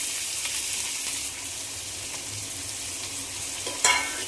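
Chopped onions frying in a pan with dry garam masala powder for chicken gravy, a dense continuous sizzle with light stirring scrapes and a brief clink near the end.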